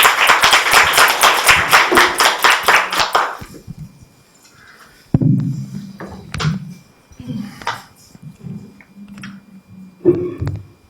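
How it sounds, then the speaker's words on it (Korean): An audience claps in a lecture hall to welcome a speaker, dense steady applause lasting about three seconds before fading, followed by scattered thuds and handling noises. "박수로 맞아주시길 바랍니다."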